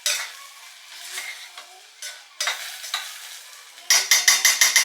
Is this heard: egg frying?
yes